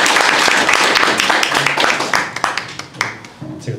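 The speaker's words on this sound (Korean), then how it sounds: "큰 박수 부탁드립니다." Audience applause at a youth forum on Korean reunification, brisk clapping that thins into scattered individual claps, with some voices underneath toward the end.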